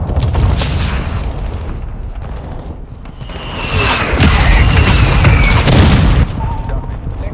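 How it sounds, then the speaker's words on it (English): Mortar strike explosions in Call of Duty Modern Warfare 2 Domination on Shoot House, a loud sustained rumble of booms and blasts swelling in the middle, dense and close, with game voice chatter mixed in. "Hostile mortar strike incoming."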